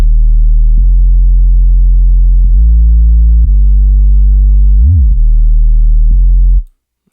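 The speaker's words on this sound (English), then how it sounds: "The bassline subwoofer 808." A deep 808 subwoofer bassline from a dancehall riddim sustains loud, heavy low notes that step between pitches, with one quick pitch slide near the end before cutting off abruptly.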